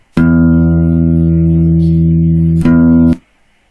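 A plucked guitar string rings as a loud, steady, buzzy tone for about two and a half seconds, is briefly re-struck, then cuts off abruptly into near silence, heard up close without talking.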